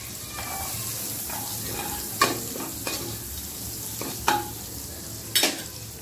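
A steady sizzle of butter in a kadhai fills the clip, broken by several sharp clinks and scrapes of a utensil against the pan.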